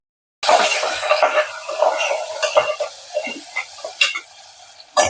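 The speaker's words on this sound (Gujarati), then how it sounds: "આ શાકભાજી આપણે હવે સંતળાવા લાગ્યું છે." Capsicum and mixed vegetables for broken-wheat khichdi being sautéed in a pan, with a soft steady sizzle under repeated clinks and scrapes of a spoon stirring against the metal, close and fairly loud throughout.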